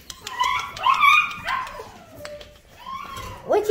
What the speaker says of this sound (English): You checking out the puppies, Olive and Rosie, huh?